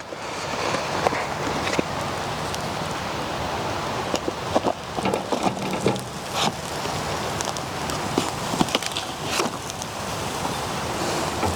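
Light rain patters steadily outdoors under tree branches, a soft continuous hiss with scattered louder drips and taps, no voices.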